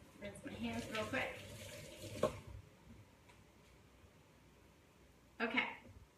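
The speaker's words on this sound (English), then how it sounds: "Rinse my hands real quick." Tap water runs over hands being rinsed at a home kitchen sink, a fairly loud gush for about two seconds before it shuts off, then a short splash returns near the end.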